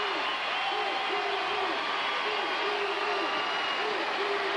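Crowd at an NCAA women's gymnastics meet, Georgia at Alabama, applauding and cheering as a dense, continuous roar of clapping and voices filling the arena, with shrill whoops layered on top.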